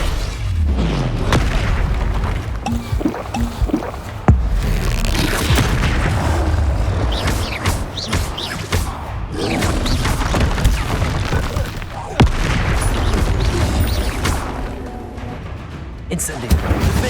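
Repeated booming blasts from Incendio fire spells in the game Hogwarts Legacy hit one after another amid constant battle noise, with a voice talking over them.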